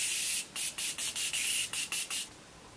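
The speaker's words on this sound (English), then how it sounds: "now I'm going to set my face with the Morphe setting spray" Quick bursts of a fine mist of makeup setting spray, about eight short pumps in a rapid, slightly uneven rhythm, close and crisp with no talking.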